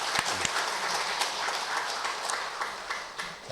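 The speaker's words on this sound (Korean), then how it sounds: "박수 한번 쳐드리겠습니다." A congregation claps at a sermon, quiet, dense applause held steady for a few seconds and heard from some distance.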